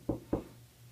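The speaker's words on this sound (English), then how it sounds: "the police are knocking at your door" Two dull knocks on a door as a sound effect, evenly spaced and close, followed by a low steady hum with no voices.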